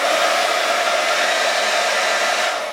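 A Remington hot air styling brush runs as a steady, loud, close whooshing blow with a constant motor hum, continuous for the whole stretch and fading slightly at the very end.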